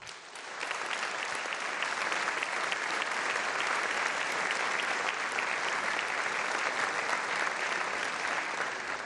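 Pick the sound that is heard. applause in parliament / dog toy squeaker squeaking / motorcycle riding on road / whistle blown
applause in parliament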